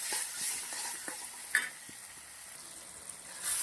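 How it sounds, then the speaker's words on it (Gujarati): Tomatoes and onions fry in a pan with a steady soft sizzle and hiss, broken by occasional scraping taps of stirring, close up and without voices. "હવે આપણે ટામેટાને સરસ શેકી લેવાના છે"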